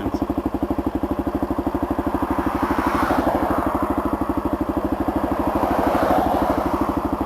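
Motorcycle engine idling close by, a steady rapid thumping pulse with a mechanical clatter on top, rising slightly in places and running continuously with no talk.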